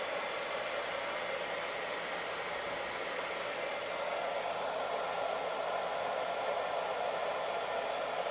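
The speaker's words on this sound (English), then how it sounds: "it's like another 10-15 minutes of just blow drying" Steady, constant whoosh of a hair dryer blowing hair during competition hair styling, loud and close with no pauses and no voices.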